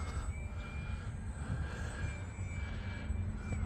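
Small E-flite UMX Turbo Timber Evolution RC plane flying outdoors in wind, a continuous buzzing electric motor whine with a faint steady high tone over rumbling wind noise, heard without talking.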